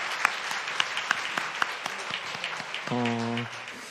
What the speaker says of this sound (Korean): 은혜 주신 하나님께 영광의 박수 한번 올려드리겠습니다